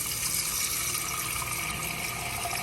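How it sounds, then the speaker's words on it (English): Tap water pours steadily into a pan while sugar residue is cleaned out, a continuous close hissing splash with no talking. "Take some water, fill that up with water."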